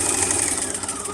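A sewing machine runs continuously, stitching the side seam of homemade panties with a fast, even mechanical whir. It sounds close and steady, with no talk.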